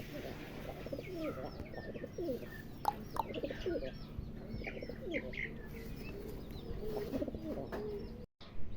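A pair of yellow Lahori pigeons cooing nearby in soft repeated low calls, mixed with scattered chirps from other birds against a steady background hum.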